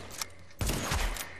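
A faint single shot followed by a louder short burst of gunfire in The Division's Dark Zone, distant-sounding and brief, with no talk.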